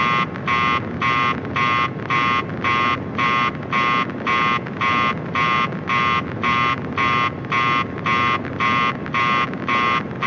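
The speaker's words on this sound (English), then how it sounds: "that beeping's really long at the end." A rapid, steady electronic alarm in a Scratch video game beeps over and over, around two pulses per second, loud and insistent above a low rumbling background.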